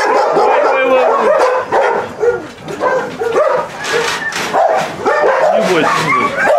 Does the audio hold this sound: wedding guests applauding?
no